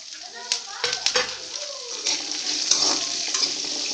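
Ginger, onion and curry leaves sauté in a pan, giving a close, moderately loud crackling sizzle with intermittent stirring scrapes and a voice talking over it.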